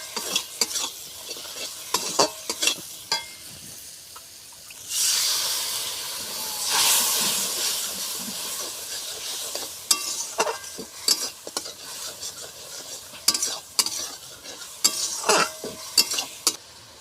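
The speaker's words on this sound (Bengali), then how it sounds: "হলুদ আর দিয়ে দেব লঙ্কা গুঁড়ো, যেটাকে ভালো করে ভেজে নেব।" Turmeric and chili powder frying and being stirred in hot oil in a home kitchen pan, with loud hissing sizzle bursts and repeated scraping stir strokes throughout, no talking.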